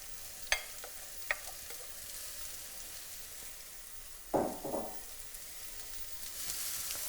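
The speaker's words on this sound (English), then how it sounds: "I'm going to cook these onions over quite a high heat for about 2 minutes, stirring them all the time so they don't stick and burn" Onions fry in vegetable oil over high heat with a soft, continuous sizzle, broken by a few sharp utensil taps and a burst of scraping as they are stirred in the pan.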